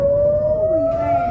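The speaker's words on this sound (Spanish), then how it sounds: "Las sirenas sonaron en Israel, preámbulo de otra pesadilla." An air raid siren sounds in Israel, a loud steady wailing tone holding one pitch with a second tone sliding downward beneath it, heard alone without talk.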